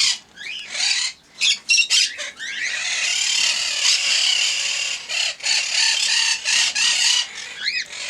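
Busy, shrill chattering and squawking from several young cockatiels, continuous and close, with rapid overlapping calls and occasional louder screeches.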